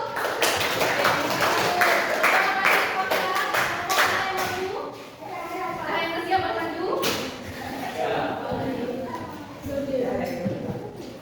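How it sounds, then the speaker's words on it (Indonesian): A middle school classroom group applauds with dense, quick clapping for several seconds, tapering off as scattered voices and chatter continue underneath. "tepuk tangan dulu untuk Rahul"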